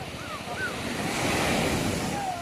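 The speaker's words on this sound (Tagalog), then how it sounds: "Lakas ng alon." Strong sea waves crash and wash steadily against a fishing shore, a continuous loud surf roar with gusty wind noise buffeting the microphone and a few faint high tones over it.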